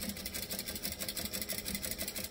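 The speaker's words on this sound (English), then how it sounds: "swivel back, down the other side. Backstitch" A sewing machine runs steadily while topstitching a travel bag, its needle giving a fast, even mechanical patter close by with no pauses across the short stretch.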